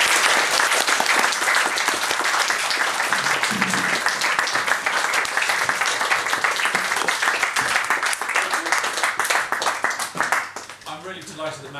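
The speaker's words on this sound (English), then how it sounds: "ladies and gentlemen, a big round of applause" Sustained applause from an audience after an evening talk, a dense wash of clapping that continues loudly for about ten seconds before tapering off, with voices rising at the end.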